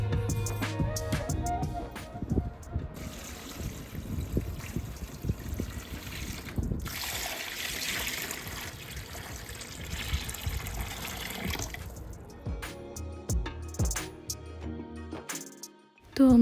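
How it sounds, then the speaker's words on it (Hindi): Water running from a tap into a foot spa tub at home, a steady trickling and splashing pour with shifting intensity, ending in a brief louder knock. "मेरा जो ये फुट स्पा है ना, ये मैंने निकाला, इसके अंदर पानी भरा"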